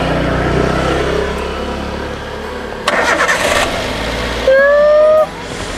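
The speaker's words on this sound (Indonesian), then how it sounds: "Nyala ya mobil." A pickup car's engine cranks and catches, with a starter whir, a sputtering turnover and a rising idle that settles into a steady rumble, close by and loud, no talking.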